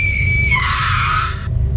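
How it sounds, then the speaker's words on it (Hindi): A woman's loud, high scream in a horror-story sound effect, piercing and sustained, sliding downward before cutting off abruptly, alone over a low rumbling background. "वो औरत भी उस खंडर के सीमा पर आकर रुक गई और जोर से चिल्लाने लगी।"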